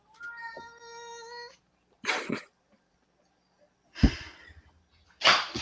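A cat meows in a few drawn-out, fairly loud cries, followed by several short, rough bursts separated by brief silences.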